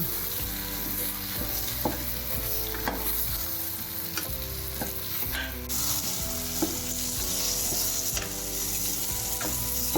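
Kathiyawadi undhiyu vegetables sauté in plenty of oil, with a continuous sizzle and repeated stirring scrapes over a bed of background music.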